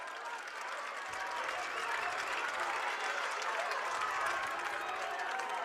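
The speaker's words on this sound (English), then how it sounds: "Good crowd out here for the Syracuse Titans." Spectators at a girls' high school soccer championship between Syracuse and Lone Peak clap and cheer in a sustained, even roar of applause, with faint voices underneath.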